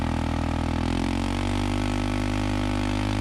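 A Yamaha Moto4 ATV engine runs lean and very loud, a steady, harsh, buzzing drone with a strong low rumble that holds nearly constant, with a slight shift in pitch partway through. No one speaks.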